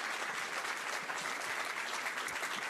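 A theater audience applauds a film critic at a cinema masterclass event, with sustained, even clapping throughout and no voices on top.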